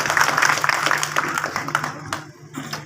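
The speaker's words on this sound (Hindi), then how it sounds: "इमरान खान जी के लिए जोरदार तालियां" Loud, dense applause and clapping from a crowd at an OBC Mahasabha public rally, welcoming a speaker, sustained and then thinning toward the end.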